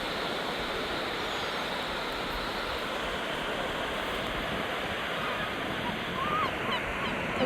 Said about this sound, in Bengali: এই যে এখান থেকে একটা হালকা জল আসছে